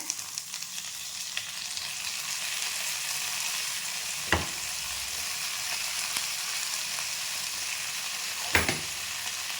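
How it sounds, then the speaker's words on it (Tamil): Tomatoes drop into onions frying in a pan for tomato chutney, a steady close sizzle broken by two sharp clatters of stirring, with no talking. "இப்போ நம்ம தக்காளி போட்டுக்கலாம். 4 மீடியம் சைஸ் தக்காளி போடுறேன்."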